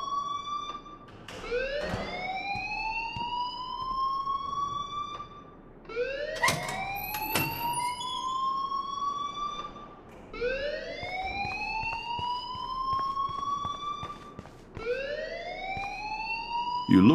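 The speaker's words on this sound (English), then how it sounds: "please turn off that alarm" In the Life is Strange game, a school fire alarm wails in repeated rising siren sweeps, loud and close, cycling about every four seconds with brief sharp clanks between cycles.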